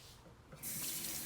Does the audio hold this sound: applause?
no